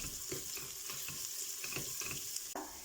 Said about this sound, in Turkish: Bunu da katıp bir süre kavuracağız.